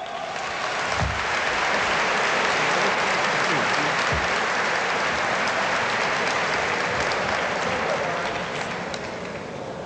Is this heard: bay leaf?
no